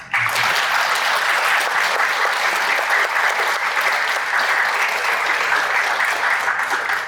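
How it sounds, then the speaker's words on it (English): Steady, dense applause from a large audience at a summer summit panel, loud and continuous for the whole stretch, with no talk over it. "everybody, I think, should give Shauna a round of applause"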